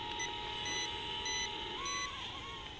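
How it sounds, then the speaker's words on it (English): Thin electronic beeps from a JDRC JD16 mini quadcopter drone controller repeat over a steady high whine, with a short rising warble near the end, close and fairly loud. "A couple of beeps for warnings."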